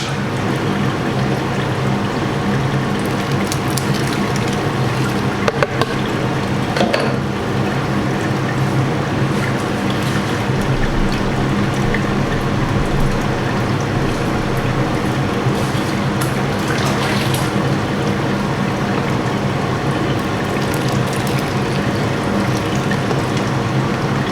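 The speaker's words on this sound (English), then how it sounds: "Nice and slowly sparging." Water trickling and splashing steadily over the grain bed in a Speidel Braumeister 50L during the sparge for a Pilsner, under a constant pump-like hum with no talk.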